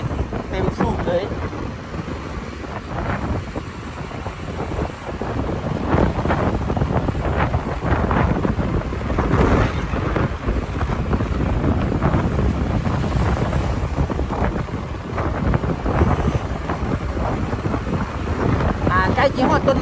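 Strong wind buffeting the microphone during a motorbike ride through traffic and dust, a constant loud roaring rush with gusty surges throughout, a rider's voice faintly beneath.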